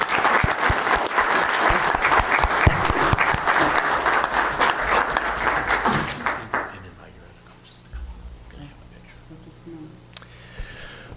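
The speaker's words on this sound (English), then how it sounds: "Will you join me in giving this group a round of applause?" A round of applause for a coaching group at a Weber County meeting: many hands clap loudly for about six seconds, then the room fades to quiet murmurs, faint shuffling and a few clicks.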